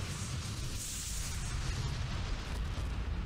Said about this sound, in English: Big explosion, yep.